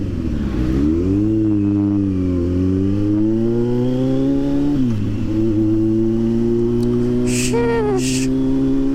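A Kawasaki Z900 SE motorcycle engine pulls hard in low gear on a ride around Tagaytay, its loud, close whine climbing in pitch through a gear change and continuing to build, with a brief voice near the end.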